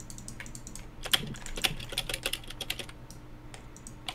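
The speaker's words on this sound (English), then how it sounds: "Clicky keyboard." A clicky computer keyboard is typed on in quick irregular bursts of sharp, close keystrokes, with brief pauses and no talking.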